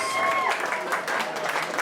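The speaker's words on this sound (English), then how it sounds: "a round of applause for Pat Ash" A crowd at the Starcade 2016 awards applauds steadily, dense clapping filling the room at close range for the whole stretch.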